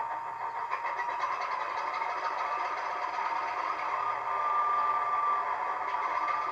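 A Class 24 diesel locomotive sound from a second-hand U-Choose model train sound decoder through a small Sugar Cube speaker, giving a steady mid-pitched engine drone at a constant level, thin and boxy.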